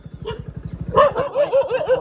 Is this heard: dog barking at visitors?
yes